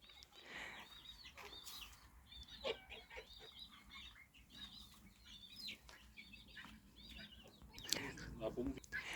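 Pigeons coo and rustle in a coop, soft burbling calls repeating over a few seconds, with occasional wing flutters and faint background noise.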